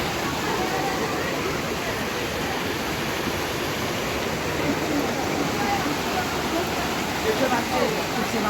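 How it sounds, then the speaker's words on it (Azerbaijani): Gəndov waterfall pours in a steady, dense broadband roar, heard nearby and constant throughout with no clear speech over it. "Bu şəlalə."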